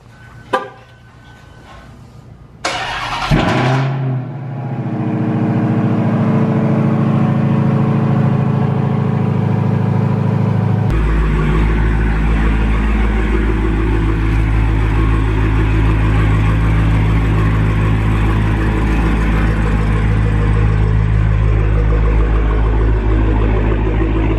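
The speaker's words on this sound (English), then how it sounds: "Love doing a cold start in this car." A widebody Dodge Challenger Hellcat cold-starts with a few clicks and a short starter crank, then fires into a loud, deep roar that settles into a heavy, rumbling high idle, the exhaust growing fuller and steadier partway through.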